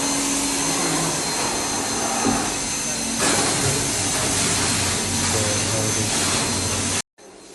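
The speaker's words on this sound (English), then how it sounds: "So we wash the screen with this washer." A pressure washer blasts water at a screen-printing screen being cleaned after printing the first color in a denim pants factory, a loud steady hissing spray that runs throughout and cuts off abruptly near the end, with faint voices underneath.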